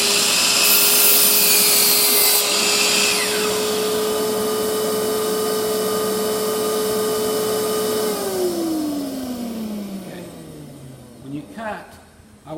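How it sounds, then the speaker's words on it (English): A powered miter saw cutting a wooden board: a loud, steady motor whine with a harsh cutting rasp at the start, then the blade spins down and fades with faint handling noises after. "Now I'm going to go ahead and cut this one."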